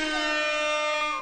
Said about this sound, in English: You're going to get another air horn as well.